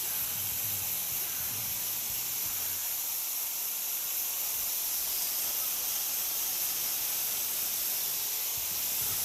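Spray adhesive hisses steadily from a can while coating the seat foam during tuck-and-roll upholstery on a Model A coupe seat, a continuous close-up spray with no talking.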